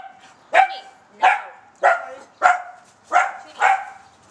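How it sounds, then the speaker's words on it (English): A dog barks six times in a steady rhythm, each bark sharp and close, with short quiet gaps between them, at a pottery kiln site. "What are you barking at?"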